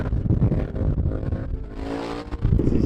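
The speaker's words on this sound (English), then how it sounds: "KTM sounds lovely." A KTM motorcycle, a wheelie machine, revs and rides past outdoors at sunset among superbikes. Its engine note is loud and close, rising and falling over a few seconds with no talk.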